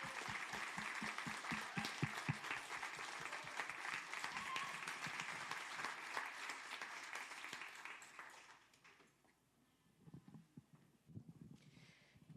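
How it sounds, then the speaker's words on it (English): An audience applauds the Houston Grand Opera at a live event, a dense, sustained clapping that fills the room for several seconds, then fades to silence before a few scattered claps return. "Please join me in giving another round of applause to the Houston Grand Opera."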